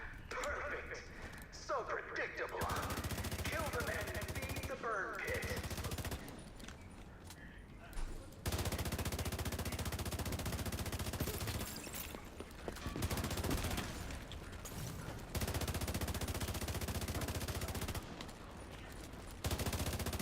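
Automatic fire from an F2000 rifle in the shooter game Division 2, with sustained loud bursts broken by short pauses, all under a speaking voice.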